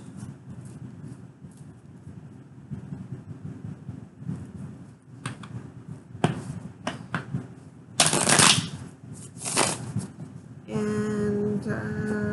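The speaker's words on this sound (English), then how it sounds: "Okay, 2 more shuffles." Tarot deck being shuffled by hand in a quiet room, with soft riffling and tapping that builds into several loud, close bursts of rapid card flutter and then steady riffling toward the end, with no voice.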